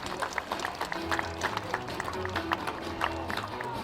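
A crowd at a sheep show claps and cheers, with scattered irregular claps and bustle from outdoor spectators, while voices and music-like tones run underneath.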